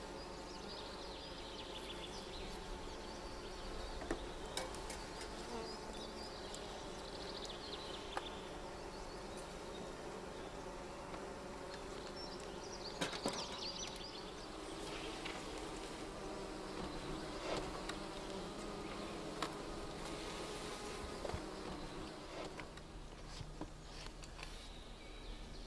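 Honey bees drone steadily at a colony that came through winter untreated, a dense continuous buzz close up throughout, with no talking.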